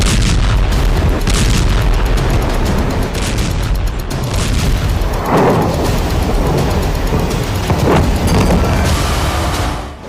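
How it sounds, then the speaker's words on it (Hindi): Series of explosions in the Rostov area of Russia, a continuous loud rumbling roar with several heavier booms surging through it, dense and booming with no voices. "कई किलोमीटर दूर तक धमाके की गूंज सुनाई दी, क्योंकि एक के बाद एक कई विस्फोट हुए"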